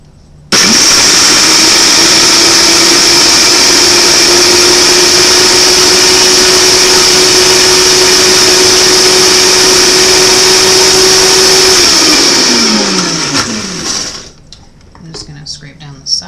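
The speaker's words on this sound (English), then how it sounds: "Let's see how this goes in the blender." A blender runs loud and steady, whirring through cashews and cabbage for raw tacos, its motor tone holding constant for about eleven seconds before winding down and stopping.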